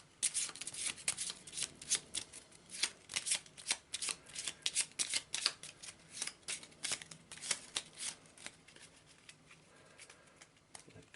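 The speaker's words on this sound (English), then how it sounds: "So give it a shuffle." An Arkham Horror encounter card deck being shuffled by hand, with rapid riffling bursts and soft card flutters repeating close up over several seconds, no talk.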